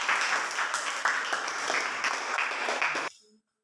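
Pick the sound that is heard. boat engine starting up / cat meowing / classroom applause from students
classroom applause from students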